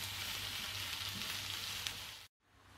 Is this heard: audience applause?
no